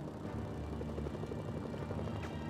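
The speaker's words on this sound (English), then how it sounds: "Our helicopter might be in trouble." A steady, close helicopter drone in the video game Mercenaries: Playground of Destruction, with a low, throbbing rotor beat continuing without a break.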